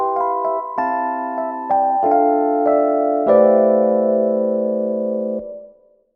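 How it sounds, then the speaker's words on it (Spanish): A melodic audio sample played through a reverb effect set to a short decay: a series of bright tonal notes and chords, each tail dying away quickly before the sound cuts off near the end. "la misma muestra de audio suena así con un decay más corto."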